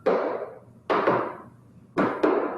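A hammer knocks a door back onto its fitting, three sharp paired blows about a second apart, close and loud with short ringing decays and no talk.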